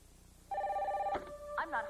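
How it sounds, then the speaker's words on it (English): A telephone on a 1991 television talk show gives one steady electronic ring, loud and clear, then a short second burst of ringing as a voice speaks over it. "The phone's always ringing."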